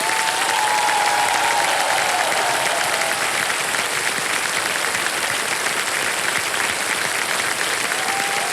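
A studio audience on the quiz show Kaun Banega Crorepati season 17 claps loudly and steadily, a dense sustained wash of applause filling the whole stretch with no talk over it.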